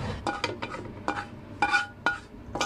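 Cooked porridge scraped and poured from a pan into a bowl, with several sharp metallic clinks and scrapes of utensil against cookware in an irregular rhythm, close and moderately loud, no talking.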